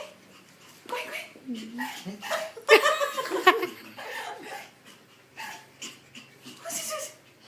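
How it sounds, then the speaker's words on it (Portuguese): A puppy makes short huffs and half-barks, close and intermittent, mixed with people laughing and chatting around it. "Quase latindo."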